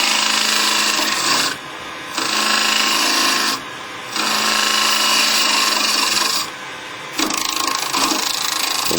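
A skew chisel cuts spinning wood on a lathe, giving loud rasping, scraping passes broken by short pauses as the tool lifts off, close and without speech.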